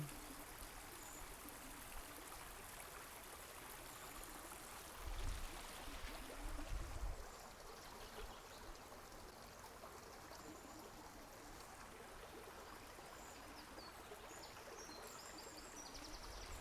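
A burn in Stanleyburn Woods runs full, giving a steady, even rush and trickle of flowing water that fills the whole stretch at low level, with a few soft low thumps midway.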